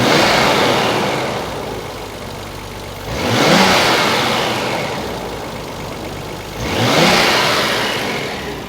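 A Nissan Skyline GT-R's RB26DETT engine with Nismo cams idles with a lumpy, uneven rumble. Two quick throttle blips swell and fade a few seconds apart.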